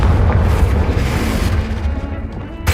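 Confringo blasting spell exploding in the video game Hogwarts Legacy, a loud, dense, rumbling boom that fills the whole clip and slowly fades toward the end.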